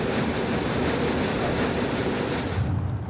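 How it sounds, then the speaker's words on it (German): Cargo freighter propeller noise picked up by a submarine's sensitive sonar, single shaft, four blades, 137 revolutions: a steady, dense wash of churning underwater rumble and hiss that continues unbroken with no voices. "Das hochempfindliche Sonar hat ein Schraubengeräusch entdeckt. Eine Welle, 4 Blatt, 137 Umdrehungen, vermutlich Frachter."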